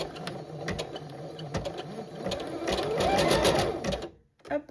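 A Chicago 7 embroidery machine stitches a butterfly design with a rapid mechanical needle rhythm that builds in intensity, then stops abruptly, followed by a brief click.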